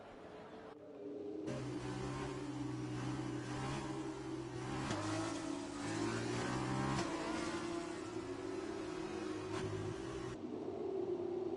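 F2 race cars in F1 2020 at the Azerbaijan circuit give a continuous engine whine that rises and falls through gear changes. The cars sound close and steady, and a commentator's voice is faintly heard over them.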